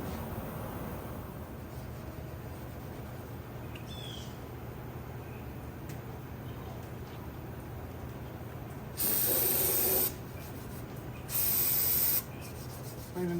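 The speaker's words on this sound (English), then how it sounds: "Cleaning the cylinder block up now" Scraping and scrubbing on a Mahindra engine cylinder block being cleaned for reassembly, a close, steady rough rubbing hiss with two louder bursts of spray-like hissing near the end.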